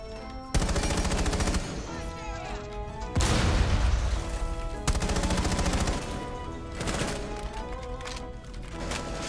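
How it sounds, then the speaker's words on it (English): Rapid automatic gunfire in Rainbow Six Siege tearing into a wall, loud close bursts with sharp impacts, pausing briefly between volleys of shots. "I'm gonna shoot that wall there."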